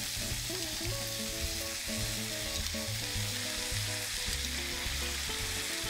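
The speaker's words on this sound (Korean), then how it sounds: "센 불에서 볶아주세요." Pork japchae with bean sprouts stir-fried in a pan over high heat gives a steady, close sizzle of frying throughout, with tonal background music playing over it.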